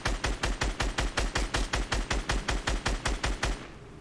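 Rapid automatic gunfire in Fortnite, a steady stream of about twenty loud evenly spaced shots that stops just before the end, with no talking over it.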